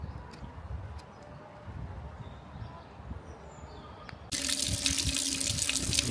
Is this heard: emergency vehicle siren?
no